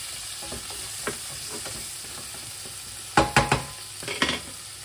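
Shallots sizzling in a pan beside duck breast, a soft steady frying hiss broken by several sharp clattering stirs and scrapes near the end, close up with no talking.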